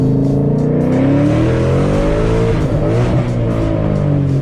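A Ford S197 Mustang with an MT82 manual transmission and stock clutch accelerates hard through first and second gear, a loud continuous engine roar rising in pitch, dipping at the shift, then climbing again from inside the car.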